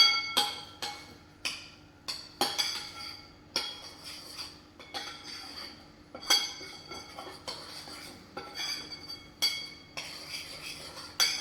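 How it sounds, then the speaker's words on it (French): A utensil clinks and scrapes against a bowl as ingredients for vegan custard tarts are mixed, with irregular knocks repeating close up and no talking. "Je commence un petit peu à mélanger"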